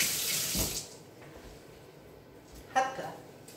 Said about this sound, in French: je vais me laver les mains parce que je déteste avoir les mains sales